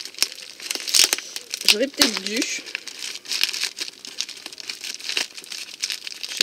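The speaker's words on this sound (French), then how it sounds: "Tu as mis du papier bulle sur pas mal de choses." Plastic bubble wrap crinkles and rustles by hand as a parcel is unwrapped, with short crackling bursts and one person talking briefly over the handling noise.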